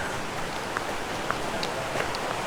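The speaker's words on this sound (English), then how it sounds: "Oh, rain's back." Light rain falling in a New Zealand forest, a steady soft hiss of drops on leaves and ground with a few scattered louder patters, close and continuous.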